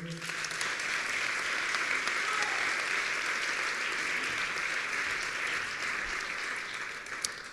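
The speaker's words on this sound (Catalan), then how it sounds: "Un fort aplaudiment, per favor." An audience at a music award ceremony breaks into sustained applause, a thick, even roar of many hands clapping that holds steady at full strength from start to finish.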